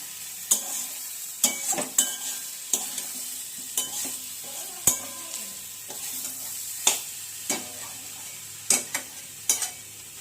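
Fish head frying in a pan gives a constant sizzle at close range. Sharp scrapes and taps from a spatula land every second or so as it is stirred, and no one speaks.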